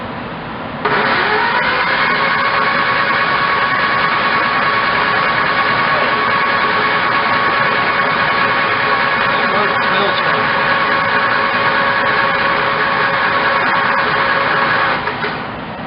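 A 1971 Triumph Spitfire engine, just out of storage, is cranked by its starter in one long, loud, steady churning run lasting about fourteen seconds before cutting off, heard close in a small shop.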